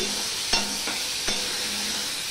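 Pointed gourd fries in a pan with a steady, close hiss of oil, broken by two light clicks of a utensil against the pan.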